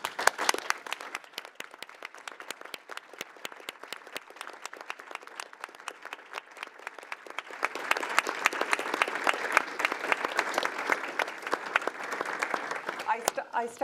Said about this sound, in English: But huge applause to the efforts of the MPP.